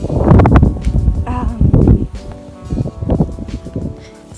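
Gusty wind outdoors in Tokyo on a day heading toward rain, buffeting the microphone with loud low rumbling surges and rustling, stronger at the start and easing off, with a voice talking faintly.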